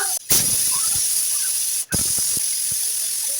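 A pressure cooker vents steam while kalan cooks, giving a loud, steady high hiss that drops out briefly twice before resuming. Faint clicks and small kitchen knocks sit underneath.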